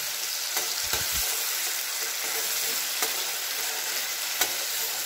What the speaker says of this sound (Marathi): आता हे वाटण घालायचं, व्यवस्थित असं परतून घ्यायचं।